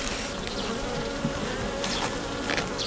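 Honey bees buzzing densely around an early-spring hive, a close, continuous drone with individual insects swelling louder as they pass near.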